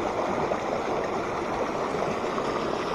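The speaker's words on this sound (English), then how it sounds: "There's a really cool bridge over this creek." Creek water rushing beneath a high bridge on a hiking trail, a steady, close, broadband hiss and gurgle with no pauses and no voices.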